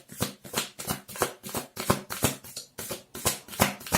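A deck of tarot cards riffled and shuffled by hand, with rhythmic crisp fluttering bursts repeating about twice a second, close and fairly quiet.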